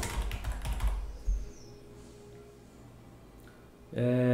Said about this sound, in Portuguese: Se eu digitar aqui São Paulo